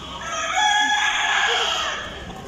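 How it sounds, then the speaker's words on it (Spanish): A flock of hens and roosters at a poultry sale clucks and crows together, a loud, continuous crowd of overlapping calls close by. "miren, estas son las gallinas."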